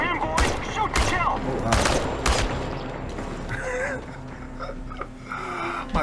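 Gunfire in the video game Chernobylite, several loud sharp shots and bursts early on, followed by quieter scattered sounds and voices in the background.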